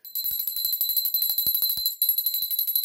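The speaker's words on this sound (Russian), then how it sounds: "И колокольчик." A small toy bell rings in a rapid, steady jingle for about three seconds, bright and close, with a brief break near the end before it continues.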